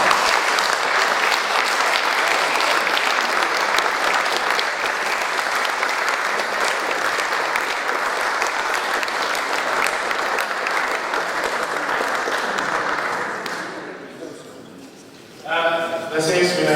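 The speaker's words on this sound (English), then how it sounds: "both sides really on that basis deserve a round of applause" An audience applauds the speakers at a debate on Scottish independence, sustained loud clapping from a full room that gradually tapers off, followed by a voice starting to speak.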